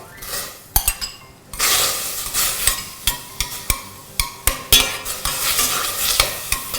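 Pieces of fish are stirred in hot water in a metal pot, with repeated clanks and scrapes of a utensil against the pot over a bubbling hiss, loud and close, with no talk.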